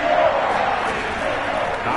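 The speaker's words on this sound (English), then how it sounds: "The crowd getting into it as we come up on a big third down." A stadium crowd at a Colts versus Browns football game roars in a continuous, loud wash of cheering ahead of a big third down.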